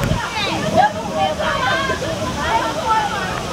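A waterfall pours nearby while people float on buoys in a slow river at Caldas Novas, a steady rushing roar under lively overlapping voices and chatter.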